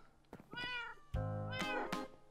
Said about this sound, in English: Let's go ahead and bring a cat with us today as well.